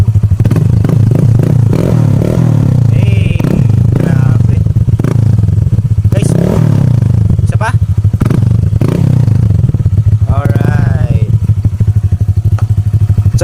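A Honda Click 125/150i scooter fitted with a full-system muffler and no silencer revs loud and close in repeated throttle blips over a steady idle rumble, with people talking over it.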